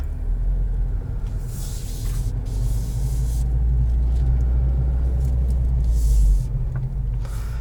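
A 2021 Subaru WRX Premium with a manual gearbox and all-wheel drive cruises on the road, its steady low engine drone and tyre rumble filling the cabin without a break and swelling slightly near the end.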